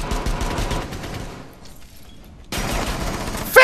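Rapid gunfire from the tactical shooter game Rainbow Six Siege crackles in dense bursts, drops to a quiet pause midway, then erupts again loud and close.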